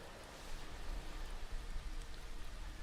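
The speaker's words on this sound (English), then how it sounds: "I always like to have rain sounds because they keep me very happy." Steady rain sounds playing in the background during a Diablo 4 stream, a dense, even hiss of falling rain with soft low patter, unbroken and moderately loud, with no talk.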